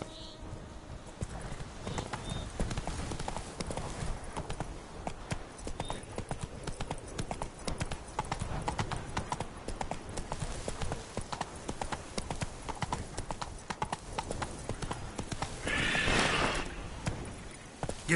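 Horse hooves gallop in The Witcher 3 Blood and Wine, a rapid continuous clatter of hoofbeats with a brief whinny near the end, loud and close amid game ambience.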